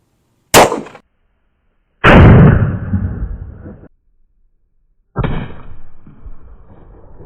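A PSA Dagger Micro Comp pistol with a 3.41-inch barrel fires into ballistic gel: three sharp, loud reports, the first short and dry, the next two followed by longer ringing decay, separated by silence.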